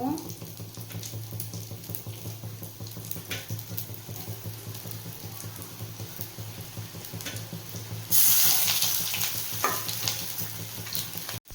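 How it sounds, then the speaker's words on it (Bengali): Soybean kofta balls frying in hot oil in a kadai give a steady, close sizzle throughout, swelling into a louder, brighter crackle near the end. "আবারও একইভাবে সবগুলোই ভেজে নেব"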